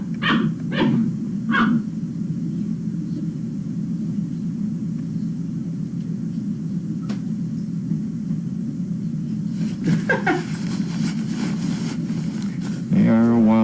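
Several lively puppies yip and bark in quick bursts near the start, with more scattered barks later over a steady low rumble and background voices.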